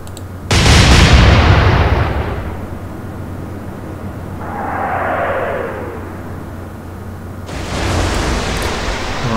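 Naval guns fire in the Atlantic Fleet video game under hard difficulty with elite gunnery: a sudden loud booming blast, a long rumbling decay, a fainter whooshing shell sound in the middle, then another heavy boom near the end.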